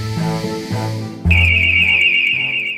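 A monitored business security alarm sounds loud and near: a few lower electronic tones, then a sharp, steady high-pitched alarm tone that holds to the end.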